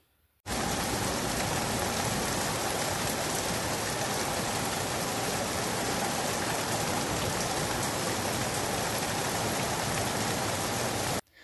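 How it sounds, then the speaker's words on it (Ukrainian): Heavy downpour of rain, a dense and steady roar of falling water that starts abruptly and continues loud and unbroken, with no voices. "Вірно, почалася злива"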